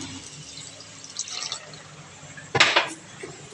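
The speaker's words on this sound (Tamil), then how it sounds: "நம்ம 1 கிளாஸ்க்கு தண்ணி சேர்த்துக்கலாம்." A short burst of water splashing into a cooking pot near the end, while making coriander pongal, after quieter faint clinks and rustling.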